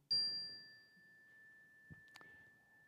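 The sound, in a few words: hand chime being rung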